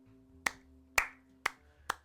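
Four sharp, evenly spaced claps ring out in a quiet room, each a distinct loud crack with a short decay, a single person imitating an audience breaking into applause.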